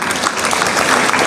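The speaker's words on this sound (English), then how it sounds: "Let's give a round of applause to the school." Steady applause from a crowd at a school graduation ceremony, dense and continuous clapping throughout the short moment, fairly loud and close.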